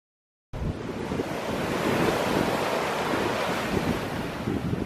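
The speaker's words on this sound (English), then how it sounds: "Here we are at Edisto Beach." Atlantic Ocean surf rolling onto a dark-sand beach at Edisto Beach, South Carolina, a steady roar of breaking waves mixed with wind buffeting the microphone, starting abruptly and continuing loudly throughout.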